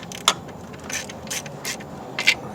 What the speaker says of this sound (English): let's tighten this bolt